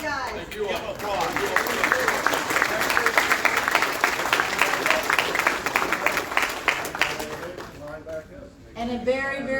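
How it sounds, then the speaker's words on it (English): A conference general-session audience breaks into sustained applause, a dense wash of clapping that swells and then fades out. Voices can be heard before and after it. "Give them applause."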